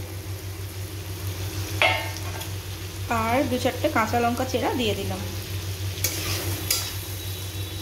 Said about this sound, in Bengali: আমার মশলাটা এরকমভাবে ভাজা হচ্ছে।